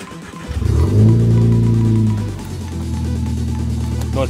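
A Vauxhall VXR car engine revs loudly nearby, rising to a strong, throaty peak and then settling into a lower, steady rumble, with no voices over it.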